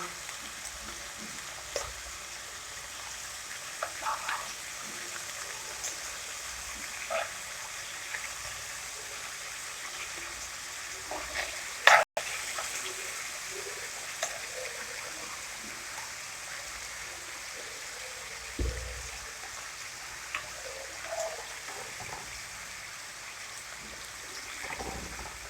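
Gola kabab frying in a pan, a steady close sizzle of hot oil with scattered small pops and occasional soft utensil taps, one sharp clack partway through.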